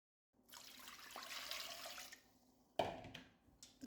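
Water pours from a tap into a pot over pieces of pork for borscht, a steady splashing rush lasting about two seconds, followed by a brief clunk and softer trickling.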